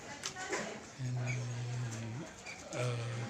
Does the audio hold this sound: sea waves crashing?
no